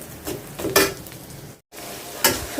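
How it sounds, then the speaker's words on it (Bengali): Onion frying lightly in oil makes a soft, close sizzle broken by stirring scrapes, with a brief silent gap midway before the crackle resumes. "পেঁয়াজটা একটু হালকা ভাজবো, বেশি ভাজবো না"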